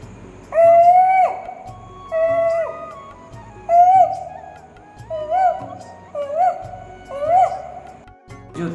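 A man imitates a koel's call with his voice, giving about six rising, whistled hoots in a slow series, loud and close, with short gaps between them.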